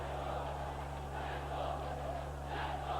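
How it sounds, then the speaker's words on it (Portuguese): A 1991 Copa do Brasil football match between Corinthians and Cruzeiro: a large stadium crowd roars and chants steadily, a distant, washed-out wall of voices under a constant low hum. "Vão sair a galera gritando efusivamente o nome de Neto."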